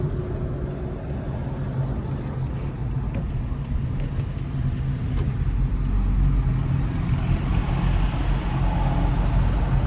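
A car engine hums loudly and steadily from inside the cabin during a driving lesson, its rumble swelling over the last few seconds as the learner presses hard on the accelerator.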